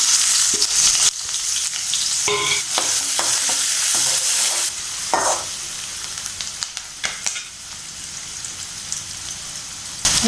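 Onion sliding into hot oil in a pan as egg fried rice is started, giving a steady loud sizzle with bursts of stirring and scraping throughout, no voices.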